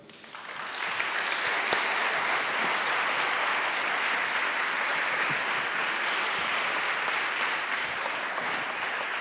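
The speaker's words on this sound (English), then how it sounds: "I urge you all to give your loudest and warmest applause to Evan Greer" A large audience gives sustained, dense applause for a speaker at a talk, rising quickly and holding steady and loud throughout without any voices on top.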